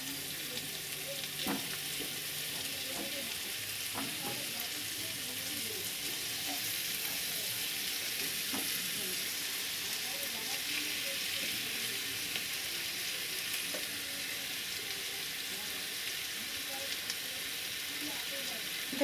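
Fish pieces fry in a wok for fish fingers, giving a steady bright hiss and sizzle that holds evenly, with a few soft knocks and stirs scattered through it.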